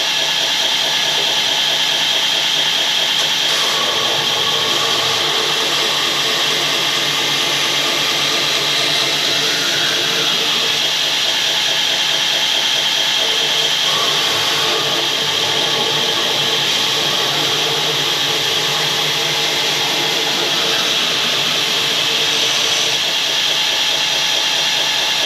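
A bench grinder runs at slow speed, grinding a flat bevel on a heat-treated knife blade in a grinding jig, giving a steady, loud, continuous hiss and whir without a break.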